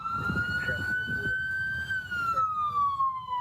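An emergency vehicle siren wails steadily in one long sweeping tone that rises and then slowly falls, clear and fairly loud over a low rumble of traffic.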